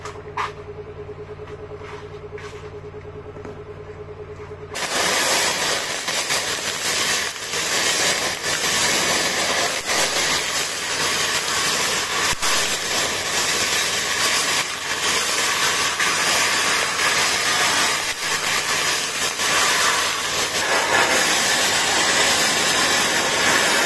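Sandblasting a moped part: a loud, continuous hissing blast of air and grit roars steadily after a quieter humming start, harsh and broadband throughout.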